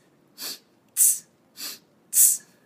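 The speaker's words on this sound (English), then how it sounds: "It sounds like a little hiss, like air coming out of a bicycle tire." Four short, sharp hissing exhales through the mouth, evenly spaced about every 0.6 seconds, close and clear with nothing else heard, from a person bracing through a weighted plank with a Bulgarian training bag.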